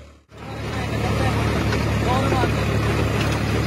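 A Farmtrac 60 tractor engine idles steadily at close range, a continuous low rumble with a faint mechanical drone that starts after a brief gap and holds at an even level, with a voice talking over it.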